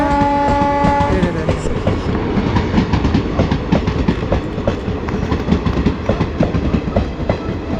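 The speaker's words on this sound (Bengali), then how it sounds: "ওই ট্রেনটা এই দিক দিয়ে চলে গেল চলে যাচ্ছে" A train passes through Plassey railway station, opening with a loud horn blast before the close, steady clatter of wheels and wagons rolls on to the end.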